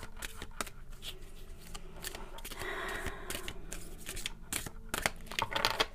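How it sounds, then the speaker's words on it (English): Oracle cards being shuffled in repeated quick riffles and papery flicks, close and fairly soft, with a faint voice murmuring now and then. "Okay, Linda, let's see what card pops out for you."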